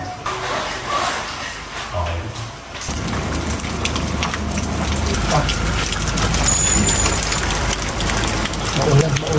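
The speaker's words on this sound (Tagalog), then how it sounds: "Oh, ulan. Ulan, ulan." Heavy rain pours down during a storm, with a steady hiss that thickens after a few seconds and low thunder rumbling underneath, close and loud.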